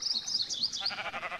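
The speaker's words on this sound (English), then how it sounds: "And the sheep is the most important part." Sheep in Minecraft with the Create mod giving a single wavering bleat, close and clear, with no talking.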